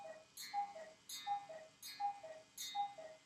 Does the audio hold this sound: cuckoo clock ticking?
yes